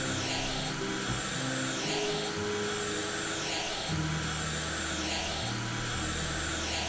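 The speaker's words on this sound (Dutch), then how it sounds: "Ik heb ook nooit geweten dat een ramenzeem het geluid van een stofzuiger maakt" A window squeegee cleaning glass in the House Flipper video game gives off a steady, loud, whirring drone like a vacuum cleaner, with a low motor hum that shifts pitch now and then and no speech.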